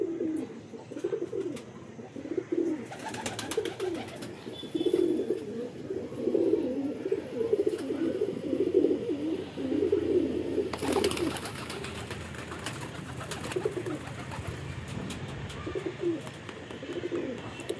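Pigeons coo continuously at feeding time in winter, a dense layer of soft, throaty cooing from several birds nearby, broken now and then by brief flurries of clattering wingbeats.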